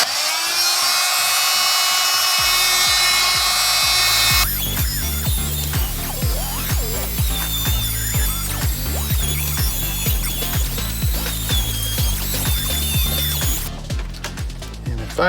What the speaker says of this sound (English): I'm going to use my multi-tool here from Harbor Freight. I got a wood metal blade on it. We'll cut the plastic as well pretty easily.